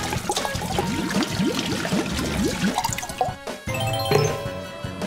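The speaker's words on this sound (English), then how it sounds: "Let's fill it with water." Water pours into a container being filled for a kids' color experiment, a close, continuous splashing trickle with gurgles that briefly breaks off before resuming.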